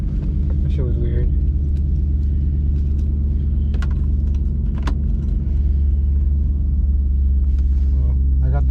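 A BMW E92 M3 with its exhaust valves closed idles in a steady, deep, close rumble, broken by a brief squeaky chirp near the start.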